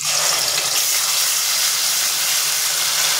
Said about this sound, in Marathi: इथे मी जे वाटण तयार करून घेतलेलं ते परतून घेते।